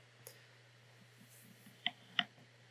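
A computer mouse clicks twice in quick succession, two sharp faint ticks against a quiet background hum.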